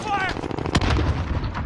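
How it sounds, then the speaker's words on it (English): Grenade explosion in Call of Duty Warzone: a single heavy, close blast with a deep rumbling tail, sitting under game noise and brief voice. "I threw a grenade at myself"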